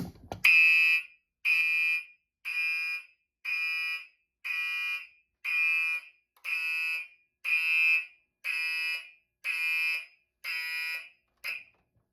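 A Silent Knight 5204 fire alarm panel, set off by a pull station and a 1400 smoke detector, sounds a loud, steady march-time tone: about eleven evenly spaced bursts, roughly one per second, ringing clearly with no talk.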